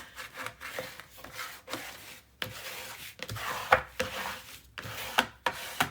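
A wide burnisher rubs repeatedly across paper for a mini album, giving close, dry scraping strokes in an irregular rhythm, with short pauses between passes.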